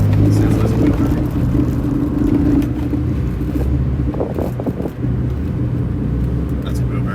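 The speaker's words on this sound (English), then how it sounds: "That's a wheel bearing for sure." Steady low drone of a worn rear-left wheel bearing in a Nissan 300ZX Twin Turbo while driving, humming continuously under road and engine rumble inside the cabin at a fairly loud, even level throughout.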